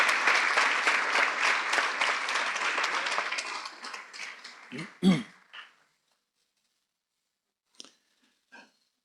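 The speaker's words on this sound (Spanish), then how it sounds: "Demos un aplauso al Señor" A church congregation at a Spanish-language service applauds, with dense clapping that thins out and fades by about four seconds, followed by a few scattered handling knocks and near silence.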